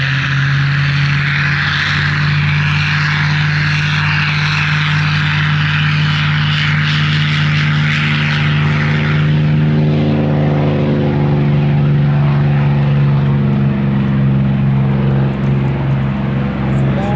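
The P-51 Mustang Diamondback, a 1945 warbird modified to a dual cockpit, roars past at an air show at Hill AFB, its loud propeller engine droning steadily with a deep throbbing tone that shifts lower as it passes.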